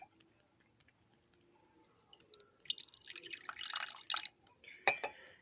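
Apple cider vinegar is poured into a container, a quiet start giving way to a trickling, splashing stream with a few sharp drips near the end.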